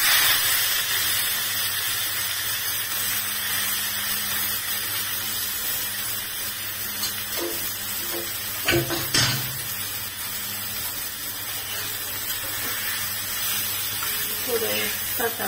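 Pathri greens stir-frying in oil in a pan give a continuous close hiss and sizzle, with a few louder scraping bursts midway and speech present.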